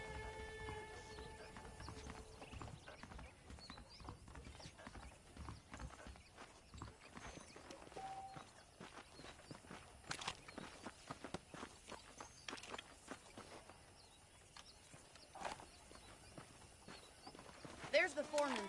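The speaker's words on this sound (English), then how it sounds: "The horses are saddled up over here." Horse hooves clip-clop in the Western video game Red Dead Redemption, a quiet rhythmic walking beat under game dialogue.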